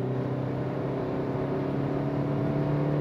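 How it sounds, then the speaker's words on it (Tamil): A Hyundai Verna sedan's engine drones steadily in third gear, a strong low hum with tonal harmonics rising slowly toward 5000 RPM, loud, close and continuous, with no talk. "5000 RPM போகும்போது வண்டி அழகாக 120 கிராஸ் பண்ணிடுச்சு 3rd gear."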